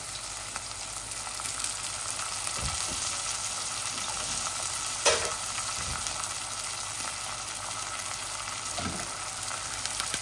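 Diced chicken breast frying in a pan for a Bangladeshi chicken bhuna sizzles in a steady broadband hiss, with a few soft bumps and one sharp clink near the middle, and no voices.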